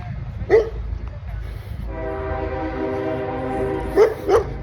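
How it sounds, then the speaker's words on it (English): A passing train blocking the road sounds a long, loud horn blast over a low rumble, while a dog barks sharply several times nearby. "I went this way just to avoid a train, and now I'm getting stuck by a train."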